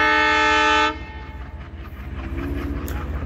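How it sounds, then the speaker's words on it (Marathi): A freight train loaded with gravel near Rajuri in Beed: a loud horn blast for the first second cuts off into steady rumbling and rolling wheel noise that continues close by. "इथं आपण पाहू शकता माझ्या पाठीमागे ट्रेन आलेली आहे."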